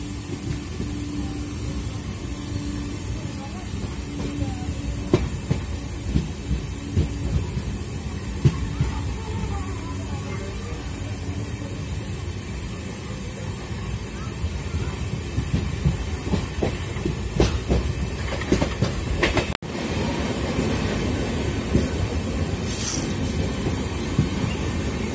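A passenger train runs on rails near Agra, a continuous rolling rumble with rhythmic clickety-clack of wheels over rail joints and occasional sharper clanks, heard close from on board without talking.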